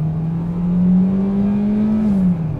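A Peugeot 301 engine revs hard under full acceleration, a loud droning tone rising in pitch over a couple of seconds before easing off, heard from inside the car without talking.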